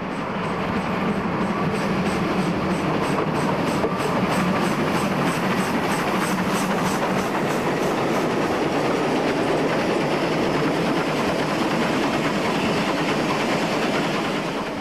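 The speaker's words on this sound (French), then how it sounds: "La traversée de la gare de Rodi Fiesole, vue depuis le wagon plateau de l'équipe de tournage." A steam locomotive of the Elefant class rolls through Rodi Fiesole station, heard from a flatcar behind it: a steady, loud rumble and rhythmic clatter of wheels over rail joints that continues for the whole stretch, with no voices.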